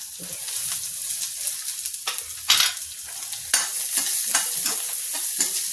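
Green chilli and a little onion sizzle in a pan for a bathua and urad-masoor dal, with irregular spoon scrapes and clinks over a soft hiss, loud and close with no voices.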